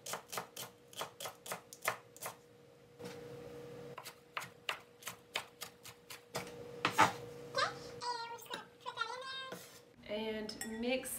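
A knife chopping curly green leaf lettuce on a board in a kitchen, a run of sharp rhythmic cuts in two bursts, followed by a voice talking.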